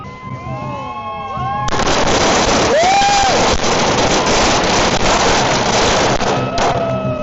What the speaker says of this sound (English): We got our firecrackers now.